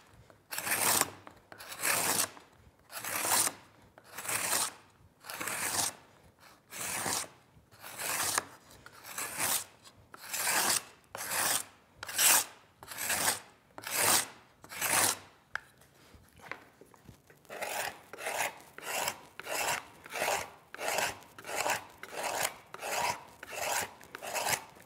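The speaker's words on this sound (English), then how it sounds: "And then I turn the spindle as I scrape." A hand scraper rasps along a wooden Windsor chair spindle as it is turned, making a steady series of loud, rhythmic scraping strokes that quicken toward the end.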